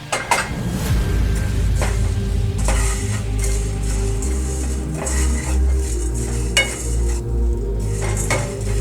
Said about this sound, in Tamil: மிளகை வந்துட்டு போட்டுட்டு சும்மா ஒரு 2 கிண்டு கிண்டுனதுக்கப்புறம் நம்ம இந்த எடுத்து வச்சுருந்த ஜீரகத்தையும் இதிலேயே போட்டுக்கலாம்